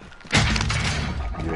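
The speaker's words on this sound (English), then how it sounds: "I throw a stun grenade in there." Stun grenade thrown in a first-person shooter game detonates with a sudden sharp shattering bang, followed by a noisy ringing tail of about a second.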